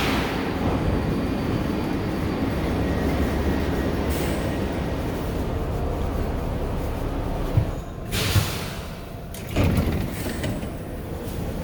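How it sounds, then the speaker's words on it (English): New York subway train ride with a constant loud rumble and rail roar and a few sharper clunks and bursts near the end, heard from on board. "I have to take 2 subway trains."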